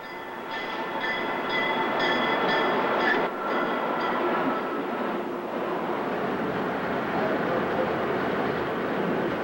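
A train rolls through an Amtrak station, a loud, steady rumble of wheels and cars with a high whine and squeal early on, passing close by for several seconds.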